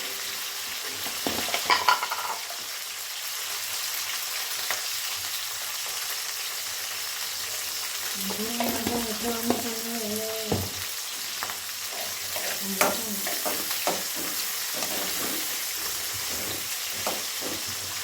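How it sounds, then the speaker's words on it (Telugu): Green chilies fry with salt in a pan, a continuous close sizzle joined by occasional scraping and stirring clatter. "ఈ విధంగా ఉప్పు వేసుకొని మనం పచ్చిమిర్చి మంచిగా ఫ్రై అయ్యేంత వరకు అయితే ఉంచుకోవాలి."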